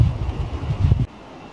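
Wind gusts outdoors during an untimely snowfall near a remote rock outcrop, a low buffeting rumble against the microphone for about a second before it abruptly drops to near quiet.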